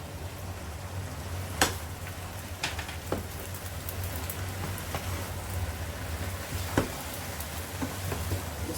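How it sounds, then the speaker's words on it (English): Garden eggs sauce being stirred in a pan, a soft continuous sizzle with occasional faint scrapes and taps of the spoon, quiet and steady with no talking. "You stir it together, you stir it so that it won't get burned."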